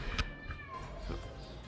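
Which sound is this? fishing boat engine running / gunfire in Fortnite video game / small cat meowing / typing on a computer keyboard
small cat meowing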